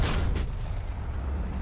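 A Panzer III's tank shell strikes the player's tank in a World War II tank game, landing as a loud low boom with a broadband blast that rumbles on beneath steady battle noise.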